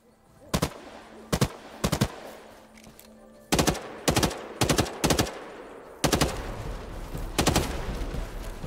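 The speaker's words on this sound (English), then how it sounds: "I was shooting at that forever" Sharp bursts of gunfire from the video game Hawked ring out in a steady series of separate shots and short volleys, loud and close, with little else around them.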